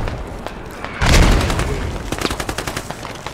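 Gunfire and a grenade blast in the military shooter game Squad: a heavy boom lands about a third of the way in, followed by rapid bursts of rifle fire crackling on through the rest, loud and without any talk.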